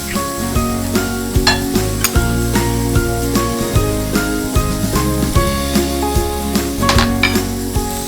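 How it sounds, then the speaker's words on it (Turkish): Butter melts in a hot frying pan for walnut katmer, giving a steady loud sizzle with clinks and taps of pan and utensils throughout, no voices. "İçine bir çorba kaşığı tereyağı koyuyorum."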